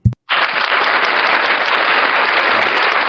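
An audience breaks into applause after a short thump, a dense, steady clapping that stays loud and even to the end.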